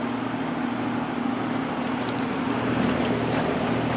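A vintage GE F15W13 box fan runs on medium after warming up, giving a steady, close whirring hum with a faint low drone that holds unchanged throughout.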